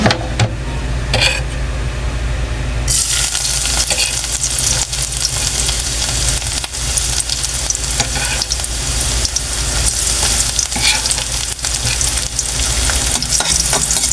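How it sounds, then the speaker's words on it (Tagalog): Green chili, tomato and ginger sautéing loudly in a pan for a fish adobo, a steady close sizzle and crackle with stirring scrapes throughout, rising sharply after a quieter opening. "igisa muna natin yung ating mga ricado para mabango"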